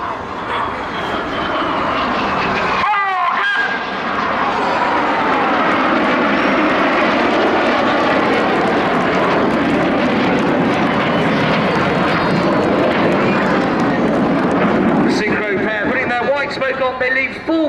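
Red Arrows display jets roaring past at full power over an armed forces day show at Cleethorpes, a loud sustained rumbling whoosh with a brief lull, while a commentator talks over it.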